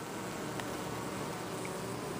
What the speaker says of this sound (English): now the bees are gonna clean her up